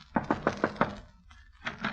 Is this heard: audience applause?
no